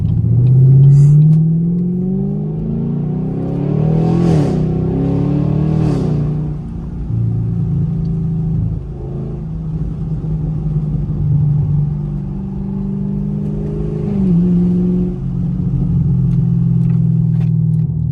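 A Chevrolet Camaro 2SS engine revs up and settles into a deep, steady rumble. A couple of rising pulls sit over a loud, continuous low drone, with no talking.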